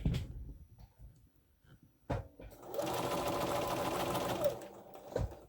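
A sewing machine stitches a quilt block in one fast, steady, close whirring run of a couple of seconds, preceded and followed by a few soft clicks and handling knocks.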